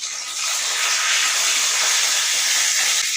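Black cumin seeds and bay leaves sizzle in hot oil for a Bengali radish and pea dal, a steady close hiss filling the whole stretch with no talk over it.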